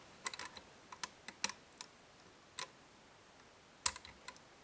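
Small, sharp metallic clicks sound while a six-lever Mottura lock is picked, coming in irregular isolated taps and short clusters, faint and close against a quiet background.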